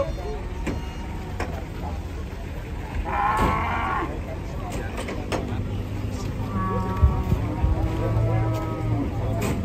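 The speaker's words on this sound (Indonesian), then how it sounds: "Rombongan sapi dari gunung datang guys." A herd of cattle arriving by truck from the mountains lets out a clear moo from one cow, with lower bellows later amid vehicle rumble, crowd noise and people talking nearby.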